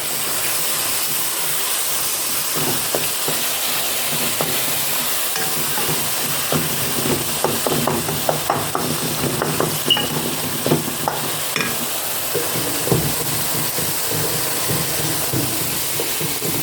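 Spices cooking in a pan for a home-cooked dinner give a steady, fairly loud sizzle and fry with a constant hiss, broken by scattered stirring scrapes and clinks, with no talking.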